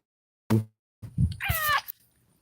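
A pet cat found at a grow house gives a short meow indoors, close and fairly soft, with a brief thump just before and quiet gaps around it.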